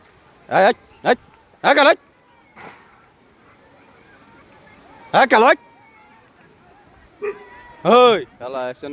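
A dog barks during a fight between two bulls outdoors, with several loud, close bursts of barking separated by pauses and voices in the background.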